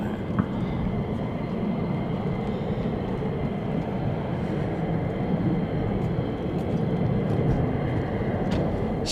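Fighter jets of the 48th Fighter Wing roar in a steady, loud, unbroken rumble that holds heavy low-end power throughout, sounding close and sustained with no talk over it.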